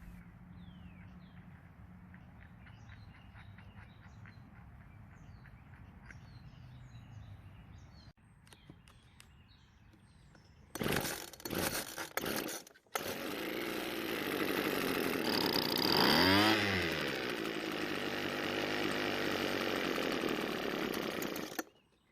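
An old weedeater with a rebuilt carburetor is pull-started, with a few sharp cord yanks followed by the small two-stroke engine catching and buzzing loudly and steadily while partially choked, after a quiet outdoor stretch with birdsong.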